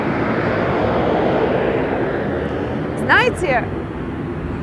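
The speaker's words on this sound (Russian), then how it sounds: "кстати, полетел самолет." An airplane passes overhead above a seaside apartment block in Batumi, its steady loud engine drone filling the scene while someone talks over it.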